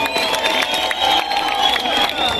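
Large audience at a year-end concert in Rwanda, with steady crowd noise and cheering that swells throughout, loud and continuous, with rhythmic clapping mixed in.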